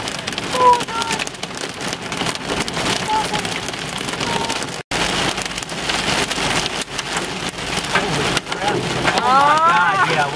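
Hail and heavy rain hammering a car during a storm chase in the Mississippi Delta, a dense continuous drumming of hard impacts on the roof and glass, loud and close, with voices talking over it.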